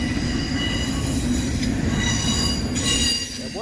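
A CSX intermodal freight train passing at night in Sykesville, led by a commemorative locomotive, produces a steady loud rumble of rolling cars with persistent high metallic wheel squeal throughout.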